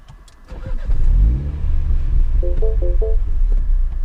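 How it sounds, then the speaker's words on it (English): A Mini John Cooper Works cranks and fires up close by, the engine catching with a loud rising rev before settling into a steady, throaty idle, while a few short electronic chimes sound over it. "I go ahead and start the car"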